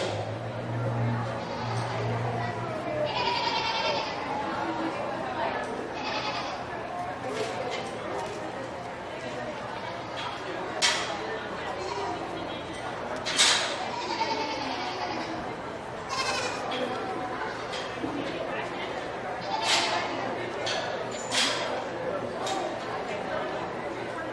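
Goats bleating in a crowded show ring at a Putnam County Fair goat show, scattered calls rising over a steady murmur of crowd chatter and a public-address announcer's voice.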